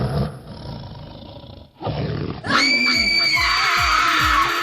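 A leopard roar sound effect bursts in after a short stretch of noisy background, with repeated rough, pulsing growls that stay loud and close through the rest of the clip.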